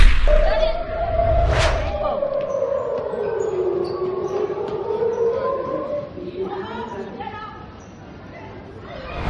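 An air raid siren wails in a long rising and falling tone, heard from a distance under a crowd's chatter and a brief rushing noise.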